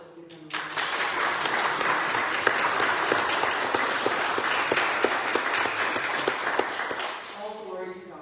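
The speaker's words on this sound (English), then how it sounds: "So let's give them a round of applause." A church congregation at a Sunday worship service applauds the choir, a dense, sustained round of clapping that starts abruptly, holds steady for several seconds and then fades.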